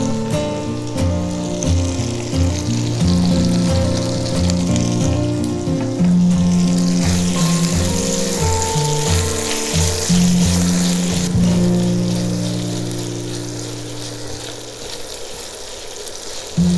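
Green chillies sauté with ginger-garlic paste in a pan for an oyster masala, giving a steady, close sizzle that runs throughout over a layer of background music.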